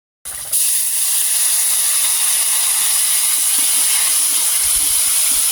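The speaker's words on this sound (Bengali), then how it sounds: "আর মশলাটা যাতে পুড়ে না যায় তার জন্য অল্প পরিমাণে জল দিয়ে দেব" Water hits a mustard spice paste with chilli powder frying in a pan. A loud, sudden hissing sizzle bursts up and holds steady and close throughout.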